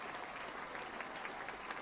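Sustained applause from a crowd at a business motivational event, a steady, dense patter of many hands clapping throughout with no pause.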